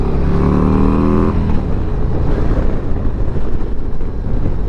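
A 2023 Harley-Davidson Street Glide ST motorcycle engine revs up loud and close, its rising harmonic drone climbing for about a second before settling into a rough, rumbling roar that carries on to the end.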